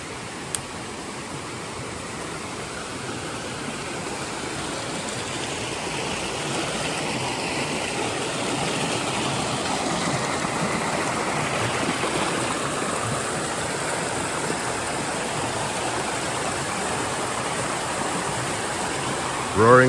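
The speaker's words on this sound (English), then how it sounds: "and she is roaring" A roaring brook just below a waterfall rushes in a steady, loud, unbroken wash of water noise that fills the whole stretch, close and constant with no voices over it.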